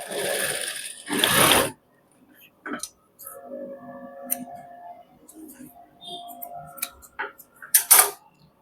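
A sewing machine stitches along the side of a pant belt in short bursts of needle clatter, close and fairly loud, with pauses and a voice talking in between.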